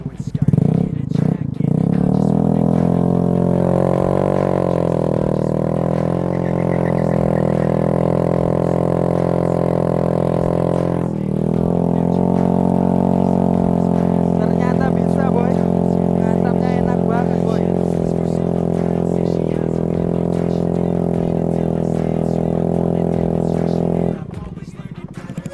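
A Honda Beat scooter revs hard to spin its Pirelli Diablo Rosso Sport rear tire, the engine holding a loud, sustained high-rpm whine for over twenty seconds before dropping off, with a few clattering knocks at the start.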